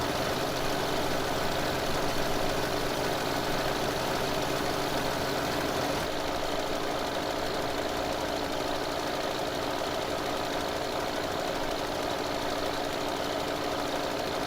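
Tractor engine in Farming Simulator 2015 runs at a steady idle-like drone with a knocking, vibrating mid-range tone, loud and continuous throughout with no voices.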